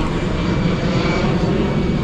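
A steady, loud roar of an airplane engine as the aircraft passes overhead on its approach route near Manila Bay, a continuous broadband rumble with no talking.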